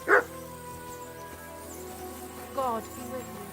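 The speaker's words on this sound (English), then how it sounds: "Oh, that's a dog." A dog barks in Kingdom Come: Deliverance II, one sharp bark at the start and another shorter, fainter bark later, over a low game ambience with a steady hum of insects.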